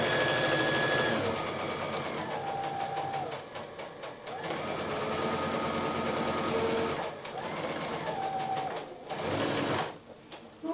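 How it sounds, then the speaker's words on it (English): A sewing machine stitching quilt half-square triangles, its needle running in fast rhythmic bursts that pause briefly and restart several times, close and steady, with no talk over it. "I'm going to just put the presser foot down, sink the needle right on the line, and away we go."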